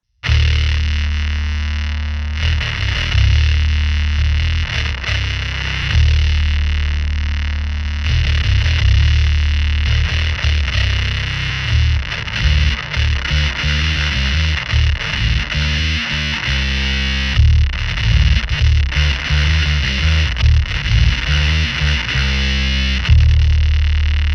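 A bass guitar through a Whirlwind DI box plays a continuous line with a dry, direct, thin tone lacking low end, notes pulsing steadily throughout, close and loud, with no voices.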